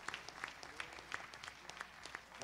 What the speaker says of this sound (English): Would you give Brother Glenn Wilson a good hand clap of appreciation?